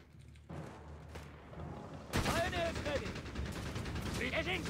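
Heavy machine gun fire in a video game battle bursts out in dense rapid volleys that grow louder partway through, mixed with explosions and game effects under talk.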